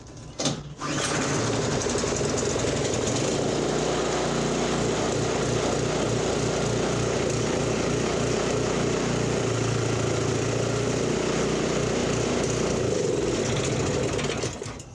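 A Toro 721 snow thrower engine runs steadily after starting, a loud continuous small-engine drone with a slightly uneven, lean-sounding beat that holds from start to finish with no talk.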